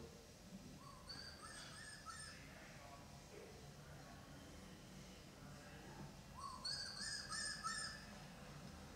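A bird sings from a tree, picked up outdoors on a shotgun microphone: two bursts of bright, high chirping phrases, one early and a louder one near the end, over a steady low background hiss.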